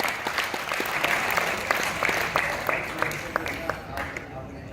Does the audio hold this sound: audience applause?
yes